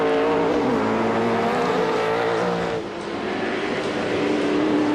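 V8 Supercars race cars from the 1997 Calder Park event roar continuously at full throttle in the night race, engines loud and near with overlapping revs and a brief dip as cars shift or pass.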